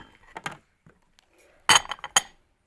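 Metal spoons clink against a glass in a few quick bursts while sugar is added for coffee, with quiet pauses between, close and fairly soft.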